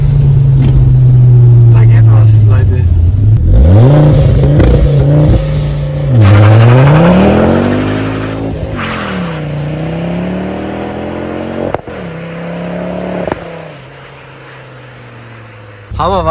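A Ford Focus ST with a 2.5-litre five-cylinder engine revs loud and close in second gear with ESP switched off, its pitch climbing and falling through several pulls before easing back toward a steady drone.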